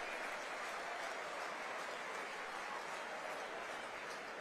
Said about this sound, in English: Applause rings around the stadium.